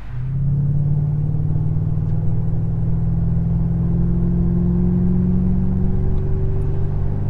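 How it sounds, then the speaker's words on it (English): A Mercury Grand Marquis engine hums steadily during a road test drive, a low, even drone with a slowly rising pitch as the car gathers speed, fairly loud and alone. "let's get this thing out on the road and see how she drives."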